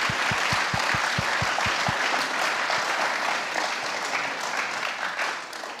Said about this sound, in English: a round of applause for them anyway